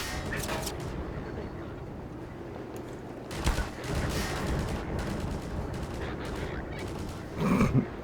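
Bursts of gunfire from a video game battle around two bases and a bridge, several volleys crackling through a steady background, louder near the end, with people talking over it.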